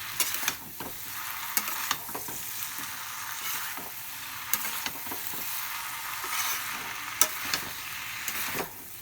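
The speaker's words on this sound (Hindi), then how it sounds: "गैस कमे आँच पर बढ़िया से मिला के भूजि लेबै।" Vegetables and masala frying on a low gas flame for a Maithili-style dalna tarkari, a quiet steady sizzle broken by repeated scraping stirs of a spoon in the pan, close and unhurried.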